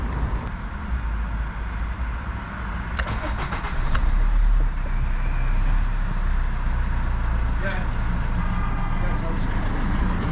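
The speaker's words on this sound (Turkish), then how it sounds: "Aracı bir çalıştıralım. Çalıştır." A Citroen Nemo 1.3 HDi diesel van cranks and starts, then settles into a steady idle. The engine sits close and loud and runs without a break until the end. A voice speaks briefly over it.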